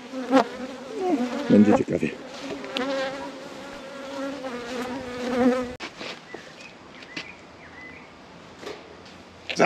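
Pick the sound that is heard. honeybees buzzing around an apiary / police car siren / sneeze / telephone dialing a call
honeybees buzzing around an apiary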